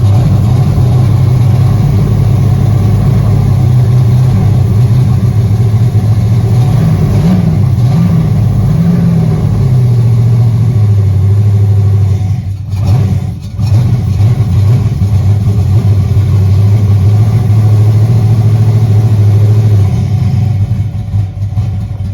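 A turbocharged race car engine, freshly fitted with its exhaust, runs loud and close for over twenty seconds. Its steady rumble rises and falls as it is revved, with a brief dip partway through.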